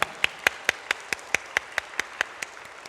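A church congregation applauds its choir with evenly spaced, crisp claps in a steady beat, about four or five per second, fading slightly toward the end, with no voices.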